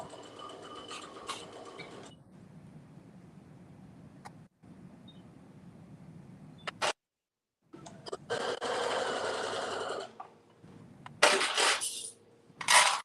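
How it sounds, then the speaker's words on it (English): Sewing machine stitching around a kaftan facing at a 5/8-inch seam, running in several bursts separated by short pauses, fairly close and clear with no talk. "now I am going to, at 5/8 of an inch, stitch all the way around"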